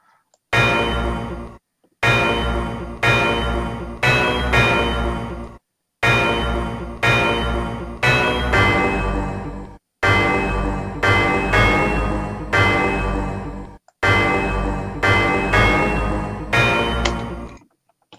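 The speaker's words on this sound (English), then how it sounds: "I'm going to show you guys how to take that bell sound out." A bell-like synth sound in an FL Studio mix repeats in loud, evenly spaced phrases with short silent gaps between them, its tone shifting as a parametric EQ sweeps across it.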